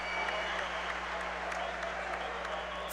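Steady applause from a wrestling crowd at an all-star college wrestling event after a sudden-victory bout, a dense even wash of clapping held at moderate volume for a few seconds with no voice on top.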